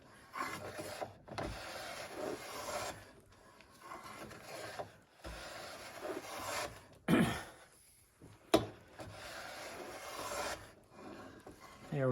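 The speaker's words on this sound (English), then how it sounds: "using your plane to take thicker shavings when you need it and thinner shavings to finish things off" A hand plane pushed along a wooden board, taking shavings to clean up minor surface imperfections: repeated rasping strokes in bursts, fairly close and moderately loud, with short pauses and a couple of sharp knocks between passes.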